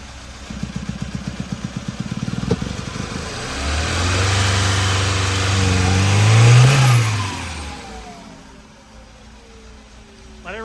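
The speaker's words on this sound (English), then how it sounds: "Sounds like it's running on bad gas." A Volvo Turbo 242 engine runs rough on bad gas, starting with a rapid uneven chugging and then rising into a strained, wavering rev before settling back to a ragged idle, loud and close.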